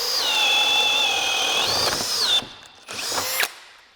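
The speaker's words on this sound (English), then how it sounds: "So first, we're gonna go through with the drill." A power drill on its plain drill setting bores through lumber with a loud, sustained whine that rises and dips as the bit bites, then cuts off and briefly restarts before stopping.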